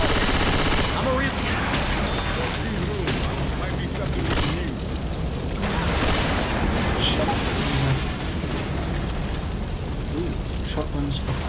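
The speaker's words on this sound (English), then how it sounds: "Shotguns." Rapid video-game gunfire with booming blasts, including shotgun fire, in Left 4 Dead 2, loud and dense across the whole stretch with a voice faintly underneath.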